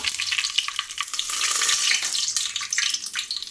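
Cumin, fennel and whole spices such as cinnamon, cloves and cardamom crackle and hiss in hot oil for kichidi, a steady bright sizzle with a few sharper pops, close up and without talk.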